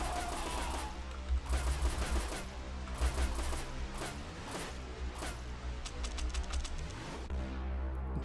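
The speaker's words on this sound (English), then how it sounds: "Nail gun is crazy." A nail gun firing in the video game Happy Hills Homicide: bursts of rapid, sharp mechanical shots in quick runs, loud and close, with brief pauses between volleys.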